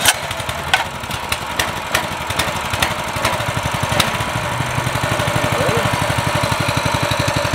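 Mudstar 200 fat-tire mini bike engine cranking over and catching, then running at a steady rough idle with a fast chugging pulse, loud and close, with a few sharp ticks early on.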